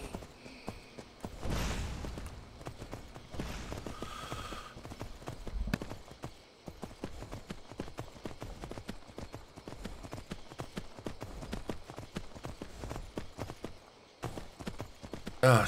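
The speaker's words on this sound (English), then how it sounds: "Hey, the headless horse!" A headless horse in the video game Skyrim trots along with steady clip-clop hoofbeats, a continuous rhythmic patter at moderate distance over faint game ambience.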